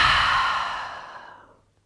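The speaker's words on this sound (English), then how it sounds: "Take a deep breath in through the nose and exhale through the mouth." A single deep exhale through the mouth, close and breathy, starts strong and fades smoothly to silence over almost two seconds.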